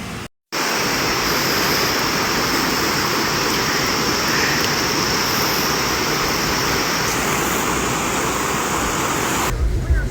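Floodwater rushes through Weston and Buckhannon, West Virginia, a loud, continuous broadband roar that holds steady alone for about ten seconds after a brief dropout at the start.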